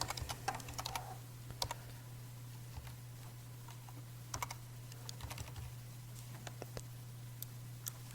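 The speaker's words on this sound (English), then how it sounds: "now I can type here a server IP address" Soft, faint tapping on a computer keyboard at a desk, irregular bursts of keystrokes over a steady low electrical hum, with no voices.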